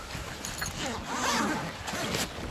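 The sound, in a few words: zipper of a fishing cargo bag being opened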